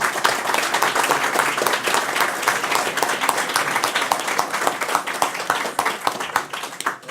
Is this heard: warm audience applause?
yes